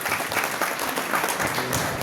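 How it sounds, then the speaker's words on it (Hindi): Loud, steady applause from a seated crowd honouring top achievers at an award gathering, dense clapping with no talk over it. "जोरदार तालियां हमारे सभी टॉपर अचीवर के लिए।"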